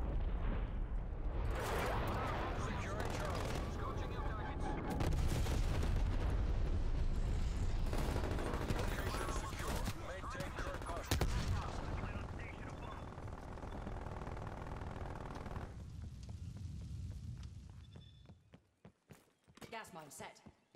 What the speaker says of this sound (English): Napalm strike target marked.